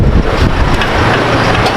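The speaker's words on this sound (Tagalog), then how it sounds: "Lakas ng hangin." Strong wind buffets an outdoor setting in a steady loud rush with gusty microphone rumble and no voices.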